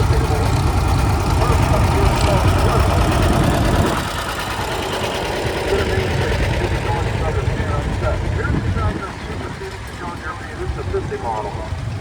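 Antique Silver King tractor engine idling in an outdoor antique machinery parade, a steady low mechanical rumble that drops in level partway through, with background noise throughout.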